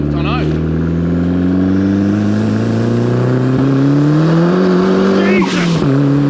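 A 350 bhp Quantum Cosworth kit car accelerating hard at full throttle, its engine droning loud and close with a steadily rising pitch through one long pull, some wind buffeting, and voices briefly audible over the roar.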